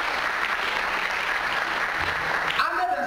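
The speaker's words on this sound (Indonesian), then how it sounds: "Tepuk tangan, luar biasa." Seminar audience breaks into steady, dense applause from many hands, close and loud, tapering at the end as a voice begins speaking.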